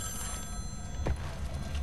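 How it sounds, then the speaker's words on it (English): A telephone ringing inside the shooter game Wolfenstein: The New Order, one burst of ring swelling around the middle over a steady game hum and music bed, moderately loud and without talk. "I wanted to answer the phone"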